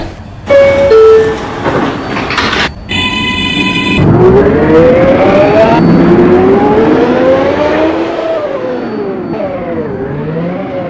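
A subway train in the video game Transit City 2 rolls through with rising and falling motor whine, rail rumble and clatter, loud and close, with a brief door chime near the start.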